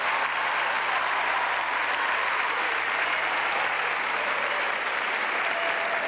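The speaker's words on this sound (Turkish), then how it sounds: "Alkışlarla uğurluyoruz." Steady, dense applause from a large crowd at a university opening ceremony, a continuous wash of clapping that holds at even loudness throughout.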